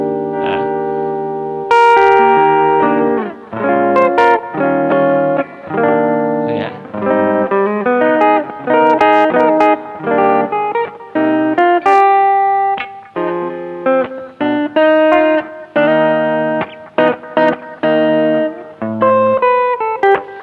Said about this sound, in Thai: ผมลองให้เล่นปิกอัพตัวบนก่อนมันเหมาะเล่นแบบเพลงไหน แบบแนวแจ๊สได้นะ